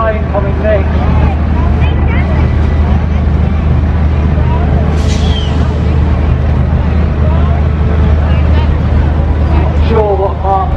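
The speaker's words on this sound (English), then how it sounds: "Mobile crane coming next." Classic mobile crane driving past at a vehicle show of classic lorries, a steady low engine rumble close by, with people talking throughout.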